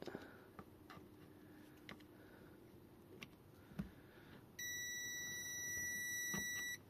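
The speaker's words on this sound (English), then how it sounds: "With the key in the on position, this should beep." A steady electronic beep tone from a 36V Freego battery pack with the key switched on sounds continuously for about two seconds near the end, faint, after some clicks and handling noise.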